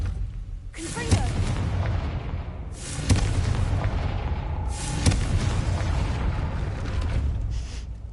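A Confringo fire spell explodes repeatedly in the Hogwarts Legacy video game, three loud booming blasts with crackling tails over a steady game backdrop, while a voice speaks briefly.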